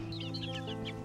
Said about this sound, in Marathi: कुत्रा आणि कोंबडीच्या पिल्लूमध्ये घमासान युद्ध सुरू आहे